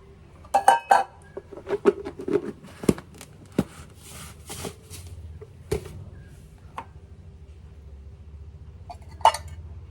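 Dishes, glass and cutlery clink in a home kitchen as sugar goes into a glass, a run of sharp separate knocks and chinks, close and fairly loud, then sparser taps, with no talk.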